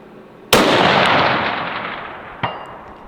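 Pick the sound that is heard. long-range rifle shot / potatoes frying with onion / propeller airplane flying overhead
long-range rifle shot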